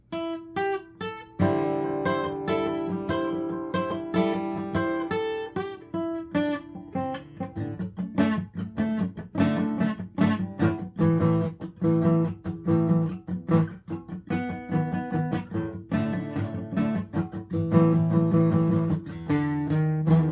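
Driving rock and roll guitar playing a riff, a repeated chugging pattern with bright chord stabs, loud and continuous, no vocals.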